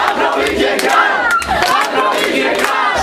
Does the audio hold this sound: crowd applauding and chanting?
yes